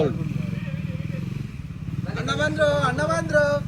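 An adventure touring motorcycle registered in Nepal, its exhaust a steady low rumble running the whole time, with a voice talking over it and brighter tonal sound joining in the second half.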